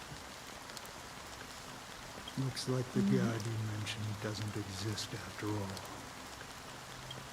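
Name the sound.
rain falling, from video game Honkai Star Rail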